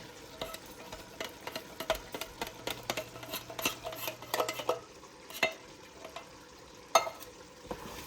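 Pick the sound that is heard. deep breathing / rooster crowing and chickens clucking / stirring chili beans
stirring chili beans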